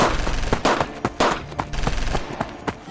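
Gunfire as a sound effect in a dramatized story: a rapid series of sharp, loud shots, some in quick bursts, others spaced irregularly, with no voices.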